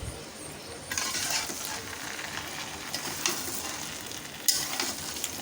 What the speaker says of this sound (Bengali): এখন আদা রসুনটাও আমের সাথে ভালো মতো ভেজে নিতে হবে।